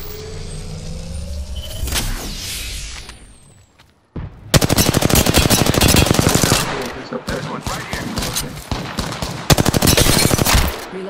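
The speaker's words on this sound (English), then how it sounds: "Shots fired, and they're hitting me." Rapid bursts of automatic gunfire in the battle royale game Apex Legends, loud and close, with a brief lull near the middle before sustained firing resumes amid other game effects.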